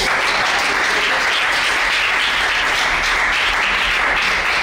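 A church congregation applauding: steady, dense clapping from a large crowd fills the whole stretch at an even, fairly loud level.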